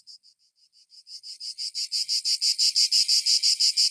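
Cicadas buzz in a pulsing chorus that begins as faint, sparse chirps and swells into loud, steady rhythmic pulses, with no other sounds.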